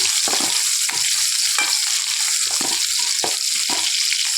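Crushed ginger, garlic and curry leaves sautéing in a pan, a loud continuous sizzle with rhythmic scraping stirs of a utensil against the pan, close up and without talk.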